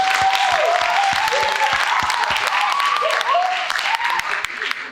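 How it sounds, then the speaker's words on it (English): An audience gives a sustained round of applause for the organizer at an oratorical contest and art competition, a dense, steady roar of clapping throughout, loud and close, with a faint voice over it. "let's give Ms. Arnold a round of applause for putting this together."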